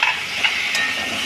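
Three tomatoes drop into hot oil in a frying pan, a close, even sizzle with a couple of faint clicks, brief and continuous.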